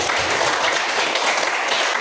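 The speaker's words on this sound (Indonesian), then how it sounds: "kita beri aplaus untuk kita semua" Classroom of students clapping together, a brief burst of dense, even applause filling the room.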